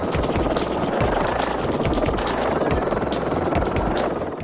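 A radio-controlled toy helicopter flies indoors in the video game Puchi Copter 2, its small rotor giving a constant, rhythmically pulsing buzz with close, steady intensity throughout.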